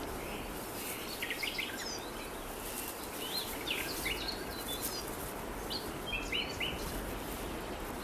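Several wild birds chirp and call in short bursts in autumn alpine mountains near Arlberg, with a few wingbeats over a steady hiss of insects, crickets and distant stream noise.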